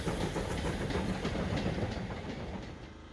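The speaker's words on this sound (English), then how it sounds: "Trains run by." A train rumbles past close by on the North Yorkshire Moors Railway during a steam gala, wheels clacking in a steady rhythm before the sound begins to fade toward the end.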